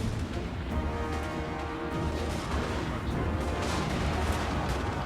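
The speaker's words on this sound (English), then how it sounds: "Mortar! Cannon fire!" Dense, distant battle din in Total War: Warhammer with muffled booming shots of cannon and mortar fire rumbling under a continuous wash of noise.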